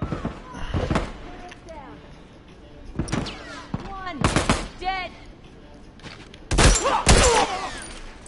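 Rapid bursts of gunfire from The Last of Us multiplayer arrive in several loud clusters, sharp cracks echoing between quieter gaps, with game sounds underneath.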